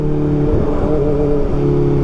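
Busy late-night road traffic in upper Antipolo, with tricycles and motorcycles passing, makes a loud, continuous engine drone with a rising whoosh of a vehicle going by midway.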